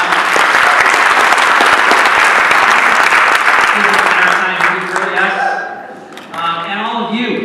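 A forum audience in Greenfield, Massachusetts claps in sustained, loud applause that fades out near the end, giving way to faint voices.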